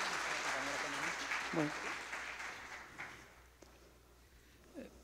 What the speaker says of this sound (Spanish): con un fuerte aplauso, por favor